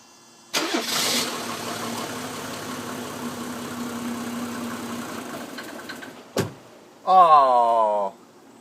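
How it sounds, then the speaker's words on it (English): A Mercedes 350SDL diesel engine cranks and catches after a fuel filter replacement, running rough and loud for several seconds with air in the fuel, cuts out, then a brief whirring restart follows. "let's crank the engine over and let it run for a bit"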